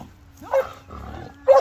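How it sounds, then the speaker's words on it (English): A big protection dog named Chapo barks during a training session: two sharp, loud barks about a second apart, close by, with a low rumble of background noise in between. "The barking's looking good now."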